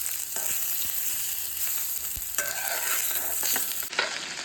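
Curry leaves, mustard seeds and asafoetida powder crackle and sizzle in hot tempering oil for a hog plum chutney, a close, busy spatter with stirring scrapes and occasional louder pops, no talking.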